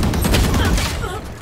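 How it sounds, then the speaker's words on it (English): Rapid video game gunfire: a dense, loud, continuous barrage of shots with a noisy, crackling texture that eases slightly toward the end. "Sorry, I have to shoot him."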